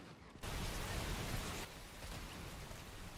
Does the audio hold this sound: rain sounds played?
yes